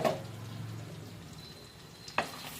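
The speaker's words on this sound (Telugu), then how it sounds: "మంచిగా ఫ్రై చేద్దాము కొంచెం లైట్ బ్రౌన్ కలర్ వచ్చే వరకు ఇలాగే ఫ్రై చేద్దాము" Cumin, mustard seeds and chopped garlic fry in melted butter, giving a steady low sizzle that fades a little, with a brief clatter near the end.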